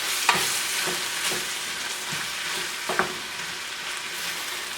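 Ham, onions and asparagus sizzle steadily in a pan as they cook down for a quiche, a continuous frying hiss with a few soft clicks of stirring or utensil taps.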